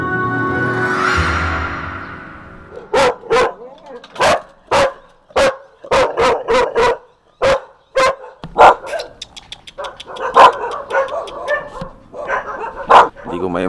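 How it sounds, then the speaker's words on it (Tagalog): A dog barks repeatedly in sharp, evenly spaced bursts after a brief stretch of other noise, fairly close and loud, with no talking over it, in a quiet area of Zambales, Philippines. "Tanging mga tahol na lang ng mga aso ang sasalubong sa'yo sa lugar na to."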